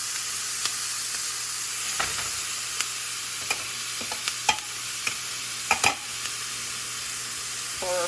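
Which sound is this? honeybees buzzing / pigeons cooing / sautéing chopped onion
sautéing chopped onion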